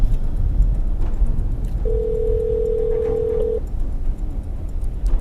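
A phone call to emergency services from a car sounds a single steady ring tone for a little over a second, heard over constant road and engine rumble.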